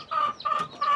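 Hens on a small farm giving three quick, nasal clucks in a row, close and fairly clear.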